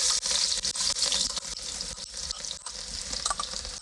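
Chopped garlic sizzles in hot fat inside a kazan while Texas-style smoked chili is being made, giving a steady, close frying hiss with small crackles and no talk.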